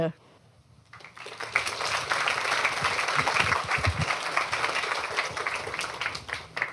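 An audience at a robotics seminar breaks into applause after a quiet moment, a dense steady round of clapping from many hands that swells and holds to the end.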